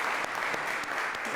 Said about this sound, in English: let's give a round of applause for Gregory, the chef.